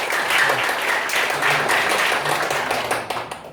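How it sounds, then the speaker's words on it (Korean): An audience applauds at a church discussion forum, a dense, steady wash of many hands clapping close by, holding strong for several seconds before thinning out at the end. "큰 박수 부탁드립니다."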